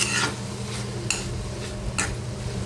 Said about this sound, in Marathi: आता हे पुन्हा मिक्स करून घेते सगळी